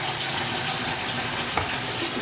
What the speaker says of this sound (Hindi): ये जो पानी है ना ये ऐड कर दूँगी मैं इमली का।